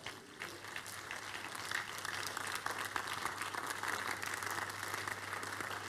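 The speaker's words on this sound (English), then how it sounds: "Give the Lord the biggest clap offering" A church congregation gives a clap offering, a long continuous wash of applause filling the room with a low steady hum beneath it, fairly distant and even throughout.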